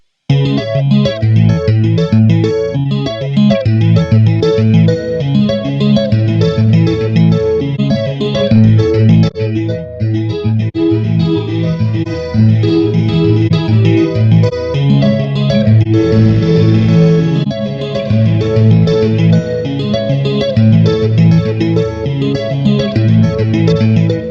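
Electric guitar through a Two Notes Torpedo Captor X multi-effects reverb unit, drenched in reverb and chorus, a loud, continuous wash of distorted chords with long, shimmering tails.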